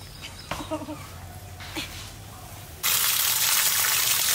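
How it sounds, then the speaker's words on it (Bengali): Taro stems being washed outdoors: after a few brief murmured voices, water suddenly gushes and splashes loudly and steadily nearby. "কচু দুটো ধুয়ে নিয়ে যাবো এখানে।"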